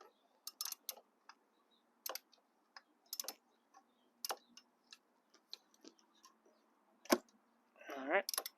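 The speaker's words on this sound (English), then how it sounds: "we're going to go ahead and use our 24mm socket to remove the sensor" A ratchet on a 24mm socket clicks in short, sparse bursts while loosening an oil pressure sensor on a Volkswagen GTI, quiet and close, with a brief voice near the end.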